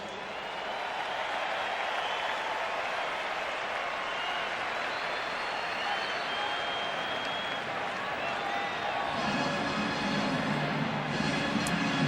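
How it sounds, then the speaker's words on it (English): Stadium crowd applause and cheering for national champions at an NFL playoff game, Cardinals at Panthers, a broad continuous roar of clapping and crowd noise that holds steady throughout, with a low rumble joining near the end. "Let's give our national champions one more round of applause."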